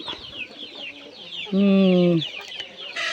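Native and Red Island chickens on a farm in the province, several birds clucking and calling at close to middle distance, with one louder drawn-out squawk partway through against soft background chatter.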